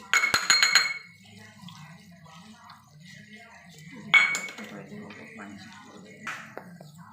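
A bowl of flour batter being mixed for homemade Manchurian, heard as clinking and scraping of a utensil against the dish, louder in brief bursts at the start and again midway, with a voice talking faintly under it.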